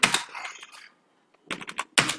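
Keystrokes on a computer keyboard while entering text into an MS Excel sheet: a quick burst of clicky taps, a short pause, then two more clusters of close, crisp key presses.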